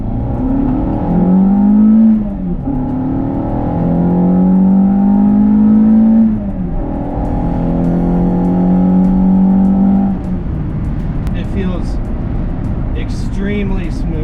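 A Renault Clio 172 engine hums steadily at cruising speed, swelling in pitch through a few gentle accelerations, close and clear, with someone talking over it and road noise underneath.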